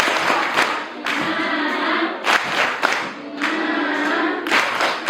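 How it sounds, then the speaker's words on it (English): Audience hand clapping at a mental health awareness and career guidance session, coming in several loud bursts with brief pauses between, close and fairly dense, no talk over it. "Let's give them another thunderous hand clap."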